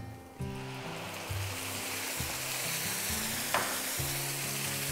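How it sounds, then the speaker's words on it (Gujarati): Boiled raw mango pulp hits a hot pan of tempering with curry leaves for rasam, setting off a loud, steady sizzle and frying crackle with a stirring scrape, and no voices. "હવે આની અંદર આપણે જે કેરી બાફી લીધી હતી એનો પલ્પ છે તે ઉમેરી દઈશું"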